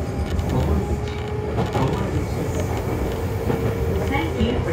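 A Kintetsu 6200 series local train on the Minami Osaka Line bound for Fujiidera runs with a steady, loud rumble and rail noise throughout, faint tonal whine and clicks over the continuous din, no talk.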